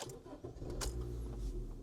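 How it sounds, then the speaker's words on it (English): A 2013-2016 Honda Civic engine starts and settles into a low rumbling idle, heard close and fairly quiet alongside a few clicks. "You have to turn the car on"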